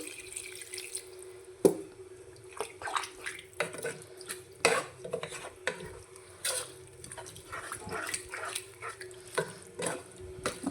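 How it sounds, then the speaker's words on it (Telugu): Water splashes and trickles into a pan of potato curry amid clinks and scraping of a utensil, intermittent and close, with quiet pauses between. "వాటర్ అయితే వేస్తున్నానండి"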